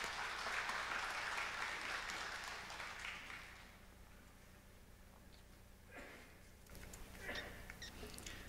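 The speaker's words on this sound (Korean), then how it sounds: "말씀 사모하면서 듣겠습니다 하는 의미로 박수로 맞이하도록 하겠습니다" Congregation applause welcoming a guest lecturer at a Wednesday evening prayer meeting in a church, broad steady clapping for about three seconds that fades into quiet room noise with a few faint later stirrings.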